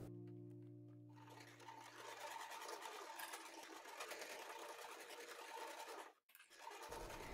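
A sewing machine stitches a small disinfection bag pendant in a steady, continuous whir that runs for several seconds, with a brief pause near the end before the motor picks up again, heard alone without talk.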